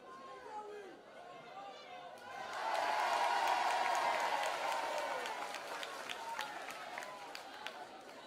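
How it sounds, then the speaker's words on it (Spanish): After a voice speaks, a studio audience on a televised celebrity impersonation show breaks into loud applause that swells and then holds, with chatter mixed in and sharp individual claps toward the end. "fuerte aplauso"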